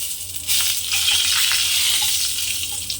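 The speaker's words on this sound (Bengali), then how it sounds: "তেল গরম হয়ে গেছে, এখন আমি শুকনো লঙ্কাটা ফোড়নের জন্য দিয়ে দিচ্ছি। তেজপাতা দিয়ে দিচ্ছি" Dried red chilli and bay leaf drop into hot oil for tempering, giving a steady, fairly loud crackling hiss that swells after the first half second and holds throughout.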